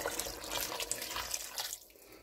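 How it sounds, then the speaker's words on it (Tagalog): Two cups of water are poured into a pot holding coconut cream for cooking mung beans, a soft, faint splashing trickle that lasts a couple of seconds. "At magdagdag tayo ng 2 cups of water."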